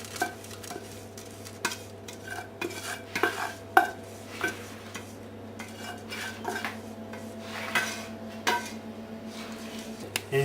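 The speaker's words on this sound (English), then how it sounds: "you're fitting it into the pan, you try and get it fairly even." Flapjack mixture being pressed and spread evenly into a metal baking tray, giving irregular scraping and clinking knocks of a utensil against the pan over a low steady background hum.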